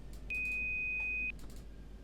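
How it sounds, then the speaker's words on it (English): A single steady electronic warning tone in the Train Sim World 3 cab sounds for about a second over a low engine rumble, clean and sustained, then cuts off. "Why did that beep at me?"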